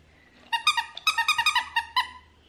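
An American Staffordshire terrier puppy letting out a quick series of about ten high, whiny yips and whimpers, close and fairly loud, packed into under two seconds.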